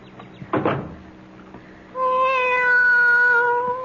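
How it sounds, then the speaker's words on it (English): In an audio drama, a soft thump sounds first, and after a short pause a cat gives one long, clear, tonal meow, close and loud. "Be quiet, cat."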